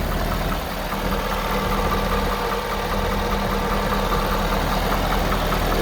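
A 2011 Altec AT200 bucket truck with a 6.7 diesel engine idles steadily and loudly up close, a constant droning rumble with a faint knocking texture and no voices.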